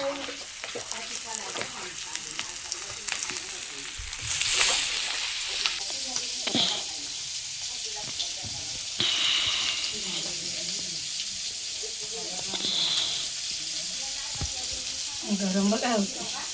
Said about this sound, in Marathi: तर फ्राय करायचे तव्यात